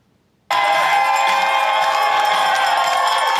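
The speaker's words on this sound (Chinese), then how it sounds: "在众人的欢呼声之下，" A crowd cheers as a 55-year-old Belgian runner crosses the finish line of his 366th consecutive daily marathon. After a brief silence, a loud, dense burst of shouting and whooping begins and holds steady to the end.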